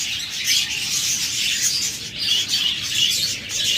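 Doves in a bird shop, with a continuous dense bed of high chirps and calls from many birds around, fairly loud and unbroken, no talk.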